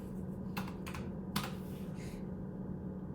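Typing on a computer keyboard while entering SwiftUI code, a few quick bursts of clicky keystrokes close by in a quiet room with a low steady hum, separated by short pauses.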